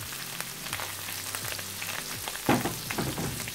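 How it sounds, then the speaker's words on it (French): Mushrooms sizzle in a pan for a spinach stuffing for whiting, with close scraping stirring strokes over a steady frying hiss and no talking. "Je mélange bien."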